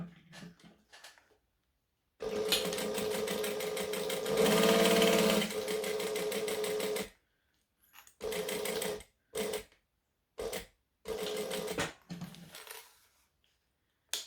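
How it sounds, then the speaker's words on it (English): A sewing machine top-stitches the edges of a fabric wristlet in several runs: one long steady burst of stitching, then shorter spurts separated by pauses, loud and close with no talking. "And then I can just top stitch."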